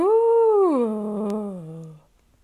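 Children's voices imitate a whale song together in a kindergarten and first-grade yoga class: a single long, loud, sustained moaning tone that holds, then glides downward and fades after about two seconds.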